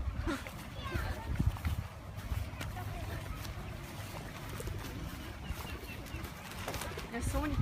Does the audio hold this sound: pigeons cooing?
yes